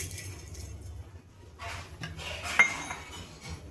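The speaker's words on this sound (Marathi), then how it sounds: "आता छान मी खडा मसाला भाजून घेते." Whole spices dry-roasting in a pan with red chilies for a village-style chicken curry, giving faint clinks and scraping rattles as they are stirred against the metal, quiet and close.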